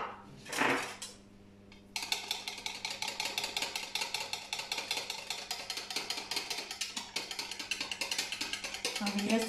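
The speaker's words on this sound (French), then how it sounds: "je mélange juste en fait pour qu'il soit bien fondu" Melted butter being stirred in a pan, a quick brief clatter first and then a long run of rapid, rhythmic metallic scraping and clicking of the utensil against the pan, close and fairly loud, with no talking.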